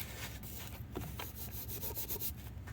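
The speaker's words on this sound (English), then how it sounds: "Grab the 4/0 and get to work polishing." Tarnished brass being polished by hand with fine 4/0 steel wool, a continuous soft scratchy rubbing at close range, fairly quiet, with no talking.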